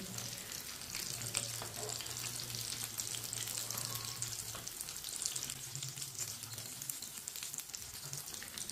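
Aloo tikki potato patties fry in a pan over a lowered flame, giving a steady, close sizzle and crackle that runs the whole time with no break, alone and with no talk.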